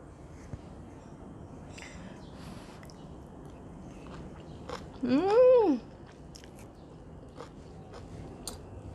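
Someone bites and chews stir-fried firm tofu with choy sum in fermented bean sauce. Soft, close, wet crunching and chewing comes in short bursts, and a brief hummed 'mm' of appreciation rises midway.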